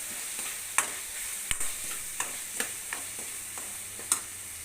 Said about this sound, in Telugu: ఉప్పు కారం వేసి బాగా కలిపేసుకుందాం